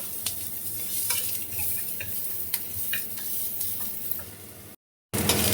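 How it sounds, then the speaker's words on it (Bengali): Onion, garlic and green chilli frying in hot oil, with a constant close sizzle broken by scattered stirring clicks and taps, then a brief cut to silence before the sizzle returns. "পেঁয়াজটা একটু লাল লাল করে একটু ভেজে নেবো হয়েছে। এবার রসুন আর কাঁচা লঙ্কাটা দিয়ে দিচ্ছি।"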